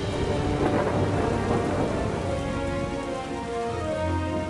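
A storybook thunderstorm effect with steady heavy rain and rumbling thunder fills the whole stretch, loud and dense, with no voices.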